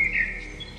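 A bird gives a short, high whistled note that fades quickly, heard faintly over a low background rumble.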